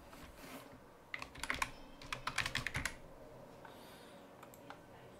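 A computer keyboard is typed on in a quiet room. The keystrokes come in irregular clusters of close, sharp clicks with pauses in between, and no one speaks.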